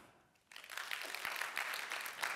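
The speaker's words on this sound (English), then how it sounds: "Please clap." After a short quiet start, an audience at a Robot Framework conference keynote breaks into steady applause that holds evenly to the end, fairly soft and distant.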